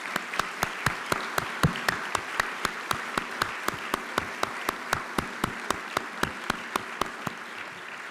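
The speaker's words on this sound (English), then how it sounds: "if you could join me for one more round of applause for these great Americans" An audience at the State of the Coast Guard address claps in a steady, rhythmic unison beat, each sharp clap evenly spaced over a softer background of scattered applause.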